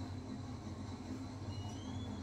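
A train in the video game Red Dead Redemption 2 rumbles steadily along the rails with a continuous low roar and faint squealing wheels, heard alone.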